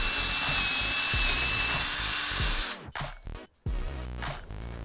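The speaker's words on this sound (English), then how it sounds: "I can drill out the hole for that wire." A power drill bores a hole for the frog wire on model railway trackwork, first a steady, close whine, then stopping and starting in short bursts near the end.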